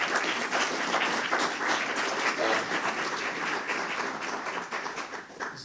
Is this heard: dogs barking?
no